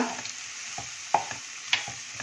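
Puffed rice and farsan being stirred in a pan on the gas, a soft steady rustle broken by several distinct scraping and tapping strokes, no talk.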